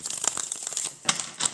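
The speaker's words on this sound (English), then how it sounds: "Let's cut and do one more shuffle" Tarot cards are cut and shuffled up close, giving soft papery riffles and crinkles in short bursts with a brief pause in the middle.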